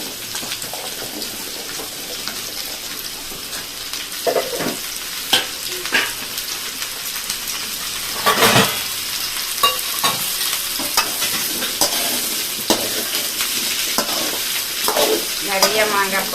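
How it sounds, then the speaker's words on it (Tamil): Cut raw mango is tossed into a hot pan for sweet mango pachadi, a close, steady frying sizzle with repeated scraping stirs and spoon knocks throughout. "இப்போ வந்து மாங்காவை கட் பண்ணி வச்சுருக்கேன், இப்போ அள்ளி போட்டுக்கோங்க."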